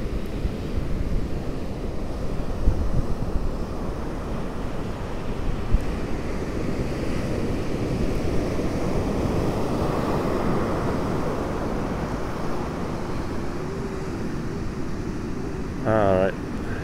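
Atlantic Ocean surf at Smith Point beach with 8-foot swells rolling in, a steady low rumbling wash of breaking waves mixed with wind buffeting the microphone, plus a brief tonal sound near the end.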